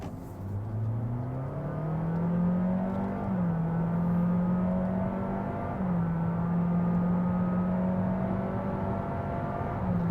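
A Honda HR-V with a CVT transmission accelerates, its engine droning in a steady rising hum that holds nearly level pitch with a couple of small step changes, continuous and moderately loud from inside the car, with no speech.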